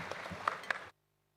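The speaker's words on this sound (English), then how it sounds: "Round of applause for all the panelists." Audience applause for the panelists at a D2C and retail summit main stage, a brief burst of clapping with a few sharp claps standing out, cutting off abruptly into silence.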